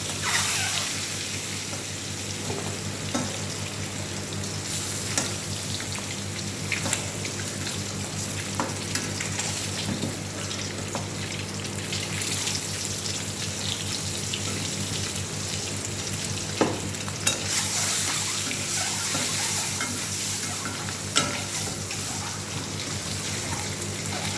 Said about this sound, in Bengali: দেখো ডিমটা আমার ভাজা হয়ে গেছে, আমি তুলে নেব।